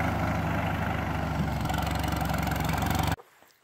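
A 1951 Ferguson TE 20 tractor engine idles with a steady, rough low chug, close and continuous, before abruptly cutting off into quiet near the end.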